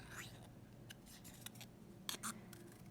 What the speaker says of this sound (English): we're just going to cut out the circles